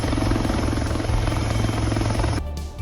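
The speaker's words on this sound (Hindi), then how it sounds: "विदेशी कपल को बचाने के लिए सेना ने ALH स्वदेशी हेलीकॉप्टर का इस्तेमाल किया" An ALH indigenous Indian Army helicopter thunders close by, its rotor chop and turbine whine loud and steady before fading abruptly near the end.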